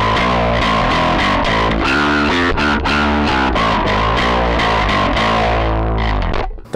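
Distorted electric bass line through an Aguilar Tone Hammer 350 amp head with low mids cut, a loud steady run of gritty picked notes that cuts off abruptly at the end, no voices.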